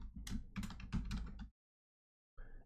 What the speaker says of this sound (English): to add collateral, we just have to type password here